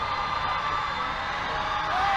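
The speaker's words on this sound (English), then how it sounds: "Crowd getting loud." A high school basketball crowd in a gym roars and cheers steadily before a free throw, a loud continuous wash of shouting and whooping that swells slightly toward the end.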